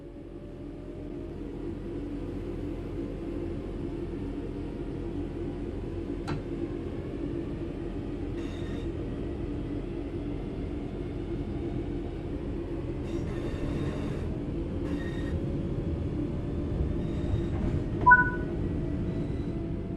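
A train in a simulator game runs with a steady low rumble and rolling drone, a few faint squeals and clicks rising over it, continuous and moderately loud throughout with no talking.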